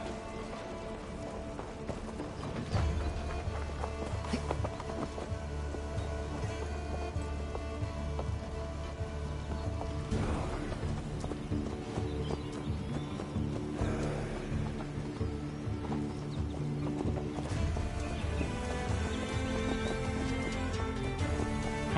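Rhythmic hoofbeats of a galloping horse in Assassin's Creed Valhalla with occasional whinnies over the game's background music and effects, steady and moderately loud throughout.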